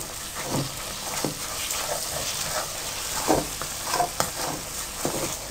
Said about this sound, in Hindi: ये इस तरह से आपने मुसलसल चम्मच चलाते रहना है और आपने कढ़ाई को साथ साथ घुमाना है